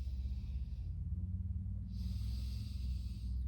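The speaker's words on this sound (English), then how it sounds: "Breathing here." Slow, deep breaths during a yoga flow, close to the ear, with a long airy exhale, a short pause, then another drawn-out breath over a low steady hum.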